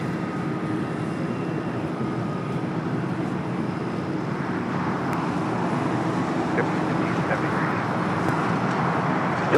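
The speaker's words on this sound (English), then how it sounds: "as we wait for the Philippine 777. It should be up next there on the north" Broad, steady jet roar of a Philippine Airlines Boeing 777 airliner at LAX, a continuous wash of engine noise holding level throughout with faint distant traffic mixed in.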